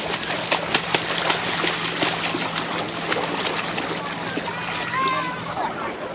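Water splashing and sloshing as someone swims in a river on a summer day, with irregular close splashes, a trickling undertone and faint birdsong in the background.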